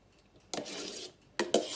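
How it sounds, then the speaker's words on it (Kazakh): A spoon scrapes and folds through chocolate cake batter mixed with egg whites in a bowl, two distinct soft bursts of stirring close up with quiet pauses between. "Қазір енді осыны қасықпен араластырып"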